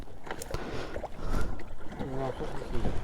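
A 900 cc water sports boat riding across Odhani Dam in Banka, Bihar, its engine and water rush steady and close beneath continuous talk.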